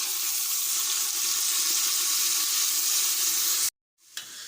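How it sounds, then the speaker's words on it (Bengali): Whole spices (bay leaf, cardamom and cinnamon) sizzle in hot oil with a close, steady, loud hiss that stops abruptly near the end, followed by a brief faint clatter. "তেল গরম হয়ে গেছে, আমি এখন গোটা মশলাগুলো এক এক করে দিয়ে দিব সবগুলা, তেজপাতা, এলাচ, দারচিনি"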